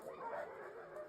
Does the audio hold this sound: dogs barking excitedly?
yes